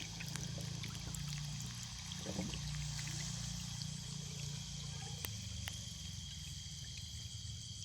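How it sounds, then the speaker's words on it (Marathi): Irrigation water flows along a channel beside a village farm field, a faint, steady trickle and wash under a background of crickets, with no talking. "पाटानं मित्रांनो पाणी येतो"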